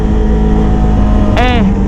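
A Kawasaki ZX25R with a loud aftermarket ProRes exhaust drones steadily and close, then gives a quick rising rev blip near the end, heard on a road near a buffalo.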